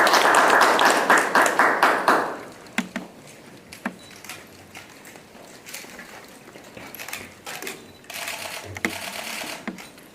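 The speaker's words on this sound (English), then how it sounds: "Please join me in applauding Bluestone High School's valedictorian for the class of 2020, Victoria Mahala Rowe." High school graduation audience applauding the Bluestone High School class of 2020 valedictorian, a loud burst of clapping that fades after about two seconds into scattered claps, small noises and a few brief swells.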